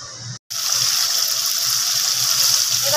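Water poured into a pan of potato and cauliflower cooked with spices and whole green chillies, a steady close gushing splash that carries on after a brief break at the start.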